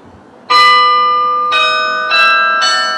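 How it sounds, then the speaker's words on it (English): Church bells rung for the sprinkling rite at Walsingham, four loud clanging strokes about a second apart, each ringing on with long sustained overtones, with no talk. "Now that's the bells for sprinkling,"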